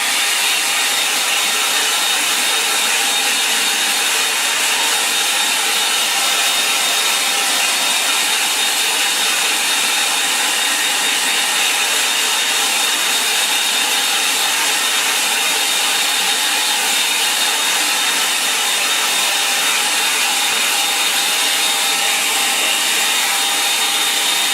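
A hair dryer blows steadily on a watercolour landscape painting of heathland, a loud, continuous, close whooshing roar with no pauses for over twenty seconds.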